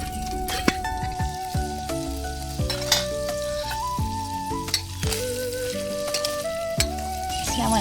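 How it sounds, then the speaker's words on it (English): Bratwurst sizzles in bacon grease on a camp stove, a steady frying hiss with occasional stirring, partly under a background tune. "I'm going to start with some bacon grease. I've got some bratwurst."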